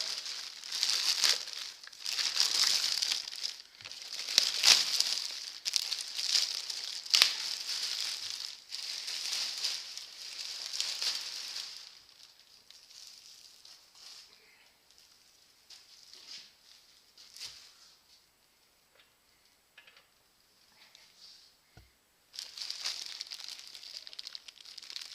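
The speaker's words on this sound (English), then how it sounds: "It looks like we're going to have to work open the plastic here a little bit" Plastic wrapping crinkles and tears in bursts of sharp rustling around a boxed Craftsman midi lathe, busy at first, then going quieter with scattered small crackles before a final burst of crumpling.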